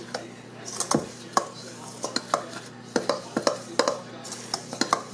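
A spoon clinks and scrapes against a cup while mixing chocolate mocha cappuccino ingredients, with irregular close, sharp taps over a low steady hum, no talking.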